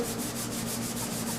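Steady, dense rubbing and scraping of hand sanding paint, a continuous abrasive hiss with a faint rhythmic pulse from back-and-forth strokes.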